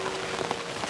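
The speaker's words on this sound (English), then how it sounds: "you can hear the sound of the bell noise of the rain hitting the umbrella" Rain pattering on an umbrella during a walk through a bamboo area in Kyoto, a close, dense, steady patter with soft taps.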